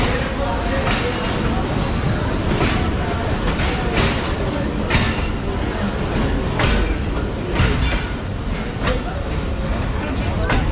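Pakistan Express passenger train running from Multan to Karachi, a steady loud rumble of wheels and carriage noise with faint rhythmic clatter throughout, voices murmuring under it.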